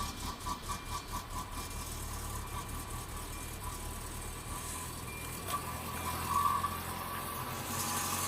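A Ford Focus engine idles while warming up on a cold day, a low, steady mechanical hum heard close with a slight pulsing at first, then an even drone, with no talking.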